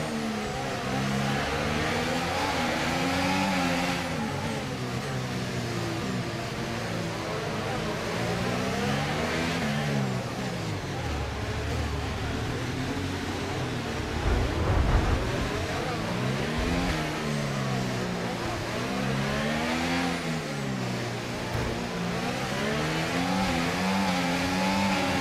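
Red Bull RB20 Formula 1 car revving hard through rising and falling gear shifts in F1 24 at Monte Carlo, a loud, continuous high-pitched engine whine that climbs repeatedly as it accelerates.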